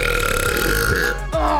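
A long, loud, continuous belch close to the microphone, with a brief dip near the end before it resumes.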